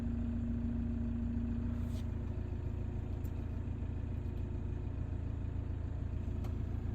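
A VW Amarok 2.0 BiTDI diesel engine, in limp mode with a P0087 fault, idles steadily right after starting, a close, continuous low rumble with no one talking.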